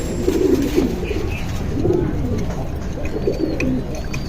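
Silver pigeons coo in a loft, soft low repeated phrases at close range, several bouts spread through a steady background hum.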